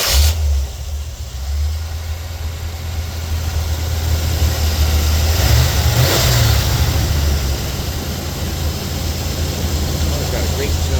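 A 1980 Chevrolet Corvette's engine turns over and catches after a sharp initial burst, then idles and revs in a steady, loud, close rumble, with someone speaking over it.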